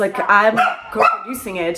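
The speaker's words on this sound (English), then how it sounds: "And I apologize for my dog." A pet dog barks in a room during a podcast, several sharp yips mixed in with a person talking close to the microphone.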